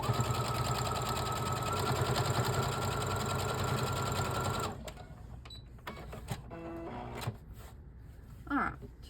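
A sewing machine stitches quilt fabric for a Jacob's ladder quilt with a fast, steady mechanical whir for about five seconds, then stops, followed by handling clicks and a voice speaking briefly.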